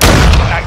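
A pistol fires in Call of Duty: Modern Warfare II (2022), a single loud, close crack with a booming low tail, very brief.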